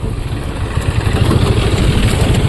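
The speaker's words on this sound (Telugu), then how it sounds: "ఏదో ట్రాక్టర్ వచ్చింది" A tractor engine runs loud and close on a rough rural farm track near a waterfall, a steady low rumbling drone that holds even throughout with no pauses and no speech.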